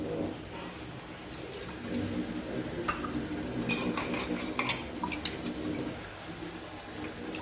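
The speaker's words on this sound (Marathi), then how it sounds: "पाणी टाकल्यानंतर हे छान मिक्स करून घ्यायचं" Gram curry with spices and water being stirred in a cooking pot, soft scraping and a few metallic clinks of a spoon against the pot at moderate distance, faint and without speech.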